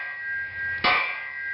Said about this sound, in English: So I'm going to hit it with a hammer.